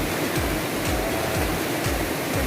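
Khlong Maduea waterfall gives off a steady, loud roar of rushing water that fills the short stretch without a break, with no voices over it.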